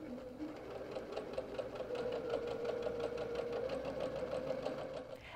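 A sewing machine stitches the layered fabric of a log cabin pillow, its needle pulsing in a fast, steady rhythm close by, running alone without pause for several seconds.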